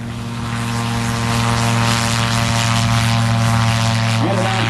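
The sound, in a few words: Apollo AR-1 gyrocopter flying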